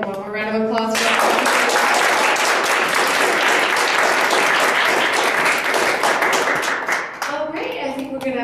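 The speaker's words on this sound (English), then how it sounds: "Can we get one more round of applause for" A crowd at an International Women's Day event in Salt Lake City, Utah bursts into loud, sustained applause lasting several seconds, a voice audible at the start and end and fading clapping toward the close.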